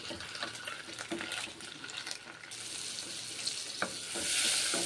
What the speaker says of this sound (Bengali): উল্টো পাল্টে দু পিট ভেজে নিচ্ছি ডিমগুলোকে